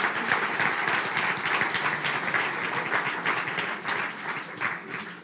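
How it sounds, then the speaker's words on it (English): Applause from the audience at an awards ceremony for team presentations, a dense, sustained wash of many hands clapping that stays fairly even and fades slightly at the end. "Another applause, please."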